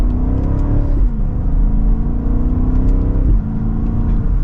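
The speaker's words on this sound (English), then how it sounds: "Hopefully you can hear that exhaust." A 2025 BMW X7 M60i pulls hard from second gear, its exhaust note climbing steadily, dipping briefly at each upshift, then rising again in a smooth, moderately loud drone heard from inside the cabin.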